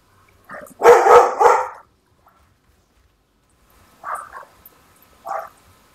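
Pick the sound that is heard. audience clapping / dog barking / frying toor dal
dog barking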